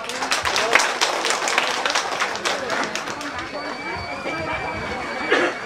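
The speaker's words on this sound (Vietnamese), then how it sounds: "xin ông bà chị em vỗ một tràng pháo tay để chúc mừng hồng ân tuyên khấn trọn đời" At a parish thanksgiving Mass celebrating a nun's perpetual vows, a crowd claps in dense, sustained applause that gradually softens, with voices mixed in.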